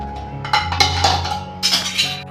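A spoon stirs tempering into pongal in a metal pot, making close, bright scrapes and clinks against the pot in uneven strokes over a low background hum, with no talking.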